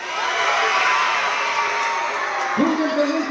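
Students at a school Veterans Day ceremony cheering for their school, a loud sustained crowd roar of shouts and whoops from a large group, with a voice rising near the end.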